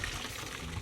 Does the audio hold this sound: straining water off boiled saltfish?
yes